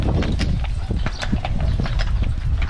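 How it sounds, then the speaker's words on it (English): Horses walking at the Giza pyramids, hooves clip-clopping in a busy uneven rhythm close by, over a loud outdoor background with no clear talk. "Look at these horses."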